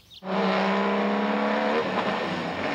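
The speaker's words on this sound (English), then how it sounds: "when you hear a 12-cylinder Ferrari coming down the road" A powerful 12-cylinder Ferrari engine bursts in and holds a loud, high, steady roar, then the tone shifts slightly as it carries on.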